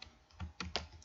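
Soft, quick clicks of a computer keyboard as a few keys are tapped while typing a sheet name into an Excel spreadsheet, close and quiet, with no talking.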